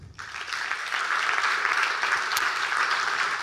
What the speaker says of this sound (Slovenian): za opravljeno delo si zaslužijo vaš aplavz